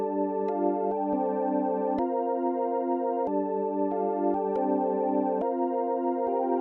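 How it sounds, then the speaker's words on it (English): Sustained organ pad from the Xenology plugin in an FL Studio jazz-style beat, holding layered chords that change every second or two, with soft clicks at each chord change, steady and fairly quiet, no voices. "The next thing, guys, that I'm going to add is a Xenology organ pad thing that's going to sound like this."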